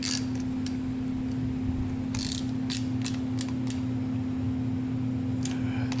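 Front brake bolts being tightened on a scooter, with a series of short, faint metallic ratcheting clicks in irregular bursts over a steady low mechanical hum.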